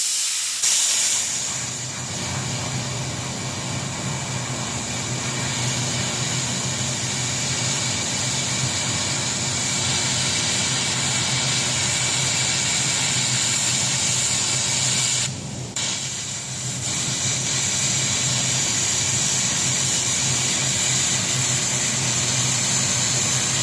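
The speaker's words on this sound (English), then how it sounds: "so I'm gonna weld that right where it is" A crucible holder being welded in place, giving a steady, loud hissing crackle that runs unbroken for over twenty seconds, with one short dip near the end.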